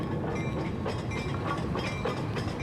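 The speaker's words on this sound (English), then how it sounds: "As the train pulled in to Prague's central station" A train pulls into Prague's central station with a steady rumbling roll and faint rhythmic clatter of wheels on rails, continuous and moderately loud with no talking.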